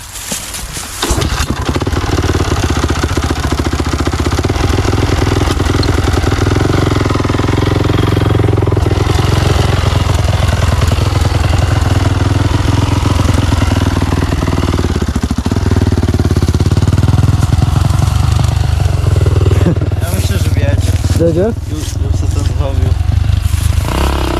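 A motorcycle engine with a badly worn tyre roars loudly and continuously nearby, revving with rough mechanical clatter while people talk over it.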